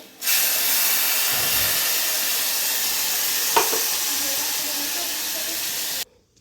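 Chutney is poured into hot oil tempered with mustard seeds, setting off a sudden loud, steady sizzle and hiss that holds evenly for several seconds, then cuts off abruptly.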